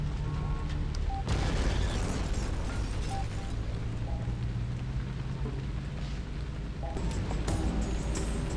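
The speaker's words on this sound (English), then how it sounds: "and then you can watch the explosion" Car bomb explosion in the video game Hitman Contracts, a sudden loud burst followed by a long rumbling, crackling roar and debris noise, fading to background sounds.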